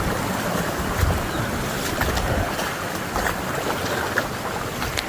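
Water rushes steadily through an irrigation channel on a village farm, a continuous broadband wash with wind buffeting the microphone, with no voices.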